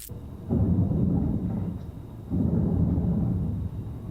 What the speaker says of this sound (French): Wow! Un orage.